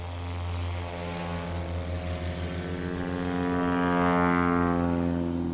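A Rans S-21 light aircraft takes off during STOL competition practice on the Oregon Trail. Its propeller engine drones loudly and steadily and swells toward the end, with no talk over it.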